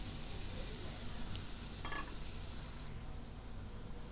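Ridge gourd with poppy seed paste sizzles and is stirred in a pan, a continuous soft frying hiss with faint scraping of the spatula, no voices.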